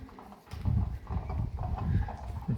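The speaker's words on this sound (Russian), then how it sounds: "Это что за звук лошадей?" Recorded horse hoofbeats play from speakers beneath a bridge at Cadolzburg Castle, a dull, steady clip-clop under the echo of the passage.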